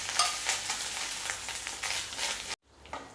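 Grated coconut fries in a pan with popped mustard seeds, a dense close sizzle with light stirring that drops off abruptly and then resumes more quietly.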